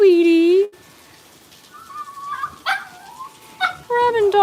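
A wet Cavalier King Charles Spaniel puppy outdoors on a rainy morning gives high, drawn-out whimpers and yips in several bursts, loud and close, separated by quieter gaps with soft whines.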